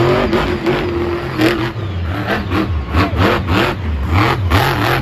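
El Toro Loco monster truck revving hard at a Monster Jam stadium freestyle run in Tampa, engine rising and falling in loud repeated surges with crowd noise behind.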